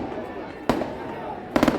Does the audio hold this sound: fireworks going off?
yes